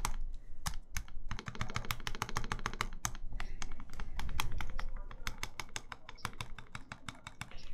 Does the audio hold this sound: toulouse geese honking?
no